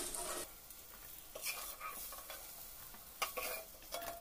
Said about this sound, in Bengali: ঠিক এরকম করে বেগুনগুলোকে ভাজতে হবে